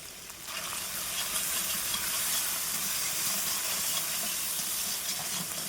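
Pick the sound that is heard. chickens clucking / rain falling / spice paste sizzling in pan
spice paste sizzling in pan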